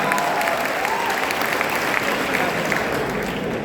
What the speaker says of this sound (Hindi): उसने जोरदार ताली बजा दो एक बार।